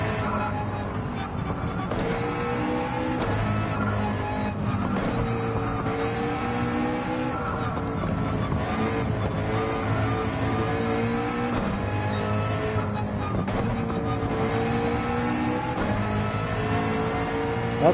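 A Gr.3 race car laps a circuit in Gran Turismo 7, its engine droning steadily and close, revving up and down through gear changes for the whole stretch, with no voices over it.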